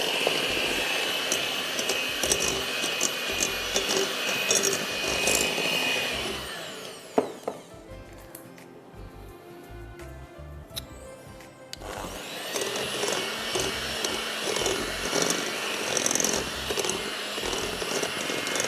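Electric hand mixer beating butter and sugar in a bowl, a steady high whirring drone that cuts out for several seconds midway, then resumes with the same buzzing tone.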